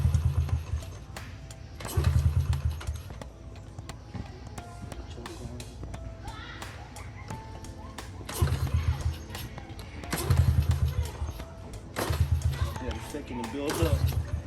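A Honda 50 dirt bike with a new carburetor is cranked repeatedly, with several bursts of engine turnover separated by pauses while a person talks between the attempts.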